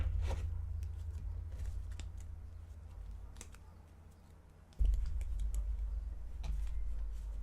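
Oracle cards are shuffled with quick papery flicks and taps over a low steady hum.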